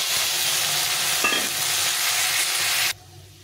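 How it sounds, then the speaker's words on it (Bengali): Chopped potatoes frying in hot oil with dried red chillies and cumin, a loud, dense, continuous close sizzle with stirring, cutting off abruptly near the end. "এই আলুটা একটু ভাজা ভাজা হয়ে গেছে"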